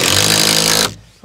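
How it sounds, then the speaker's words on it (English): A power tool drives screws into a timber wall of a garden room under construction, giving a loud, close, buzzing whine that stops abruptly near the end. "get some screws in there, and then we know it's not going to go anywhere"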